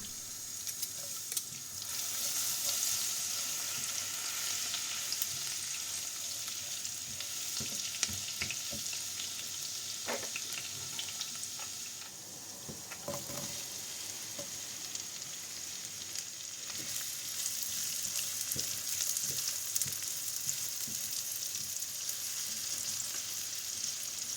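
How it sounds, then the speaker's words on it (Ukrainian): Chopped garlic and onion sizzle in hot oil in a pan, a steady close frying hiss with occasional stirring clicks and no talking. "потрібно підсмажити на маслі подрібнений часник, а вже після цього додати нашу порізану цибулю"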